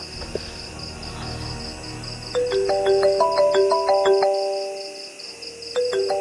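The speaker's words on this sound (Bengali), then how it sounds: "তাসলিমা ফোন দিছে।" A phone ringtone plays a repeating melodic jingle in short bursts, fairly loud, over a steady high insect-like buzz in the background.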